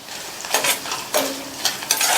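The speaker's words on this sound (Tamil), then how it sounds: "இந்த மிளகாவும் வதங்கட்டும்." Sliced green chilies sizzle and fry in a pan as a spoon stirs and scrapes them in several distinct passes. A steady hiss of frying runs throughout, and no one speaks.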